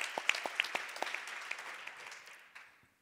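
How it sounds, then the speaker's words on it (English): An audience at a relationship breakthrough retreat gives a short round of hand claps, a few distinct sharp claps that quickly thin out and fade to silence within about three seconds. "Give her a hand clap."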